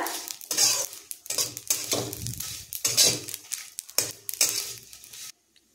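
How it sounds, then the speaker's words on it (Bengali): Potatoes being stirred and tossed with poppy seeds in a wok, loud repeated scraping and clanking of a spatula against metal in bursts, then a short silence at the end. "এখানে সমস্ত আলু দিয়ে পোস্তর সাথে ভালো করে নাড়াচাড়া করে মাখিয়ে নেব"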